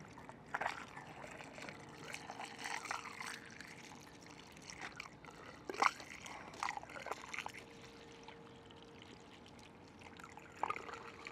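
Vinegar pouring and trickling into an RV water heater in a steady stream, with occasional louder splashes and gurgles, fairly close and moderately quiet.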